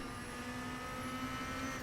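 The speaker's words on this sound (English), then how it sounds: "You know when the DRS is open in this car because it sounds like a steam train" DTM race car in RaceRoom running with its DRS open, a steady droning engine note with a hissing, chuffing quality held at constant loudness, close and alone without talk.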